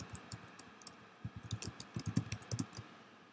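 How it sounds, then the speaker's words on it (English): Keys on a computer keyboard clatter in uneven bursts of quick taps while a forum reply is typed, close and fairly quiet, with no voices. "You can edit the title to whatever you want to more correctly describe your post if you choose to. And you can type a reply."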